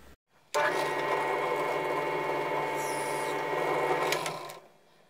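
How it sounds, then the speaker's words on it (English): A steady mechanical whir of a bench drill press running for about four seconds, with a raspy grinding texture as the bit bores into PVC pipe, then spinning down. "So here we have a bench press drill."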